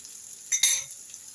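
Croutons frying in vegetable oil in a pan give a short close burst of sizzling with a light scrape or clink of a utensil, lasting well under a second amid quiet background.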